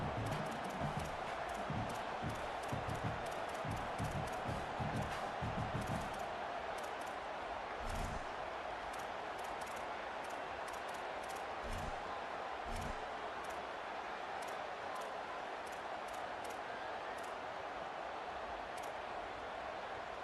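Stadium crowd noise in a college football video game with the UCF Knights, a steady broadband roar that stays even and distant throughout, with faint thumps early on.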